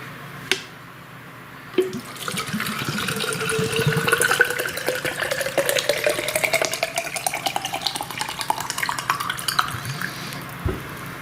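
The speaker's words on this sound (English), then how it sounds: "So let's fill it up with water, test its ability to hold water." Water pours into a Bear Grylls 3-in-1 hydro lamp, a steady rushing fill whose pitch rises as the container fills, with a few clunks of handling at the start and end.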